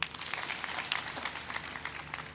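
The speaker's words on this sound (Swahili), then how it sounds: "Pigia yeye makofi." Light applause from a crowd at a gathering with Kenyan officials, brief scattered claps at a moderate distance, fairly faint and lasting only a couple of seconds.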